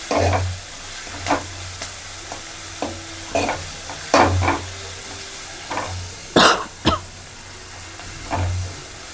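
A ground paste of garlic, green chilli and coriander fries in a pan for rasam, a low steady sizzle broken by several sharp spatula scrapes and clanks against the pan at irregular intervals.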